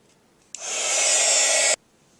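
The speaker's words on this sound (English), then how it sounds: "I'm going to take my heat tool and just heat my embossing powder" A handheld heat tool blasts hot air over embossing powder on a paper oak leaf for a Christmas card, switching on sharply, whooshing steadily for just over a second, then cutting off abruptly, loud and close.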